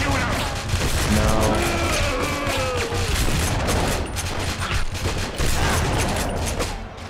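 Sustained volleys of gunfire in The Punisher on PS2, loud and dense throughout, mixed with in-game voices and shouting.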